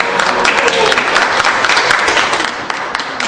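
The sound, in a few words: audience applause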